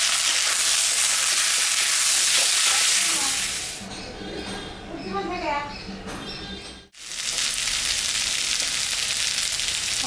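Potatoes and eggplant frying with onions in a hot pan, a loud, steady sizzle that drops away briefly mid-clip while someone speaks, then returns at full strength.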